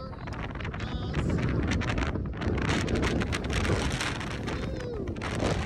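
Strong wind blows across a mountain pass on the Skyline Trail in Canada, buffeting the microphone in a loud, continuous, gusting roar for the whole stretch.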